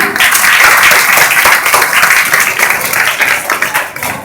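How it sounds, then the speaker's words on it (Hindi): Strong, sustained applause from a crowd at a 2019 Ambedkar Jayanti gathering in Kailash Nagar, Ghaziabad, loud and continuous clapping for over four seconds with no talk over it. "जोरदार तालियां"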